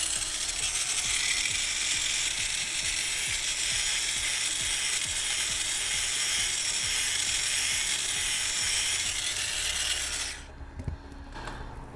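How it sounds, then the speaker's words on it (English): Finger belt sander running steadily and loudly while shaping a Boba Fett vambrace, a continuous high-pitched whirring grind for about ten seconds, then stopping abruptly, with a few faint clicks and handling knocks afterward. "I think I'm going to go ahead and go back to the finger sander on those."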